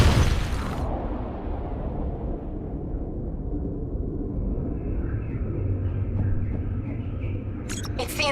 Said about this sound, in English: They're about to detonate!